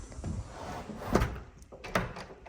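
A front wooden door of a newer build is pushed shut and locked, giving a soft thunk followed by a couple of sharp metallic clicks from the latch and lock, close by with no talking.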